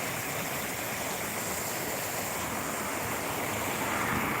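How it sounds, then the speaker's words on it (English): The River Bourne flows with a steady, dense rush of water that stays constant and fairly close throughout, with no voices. "And that is the River Bourne."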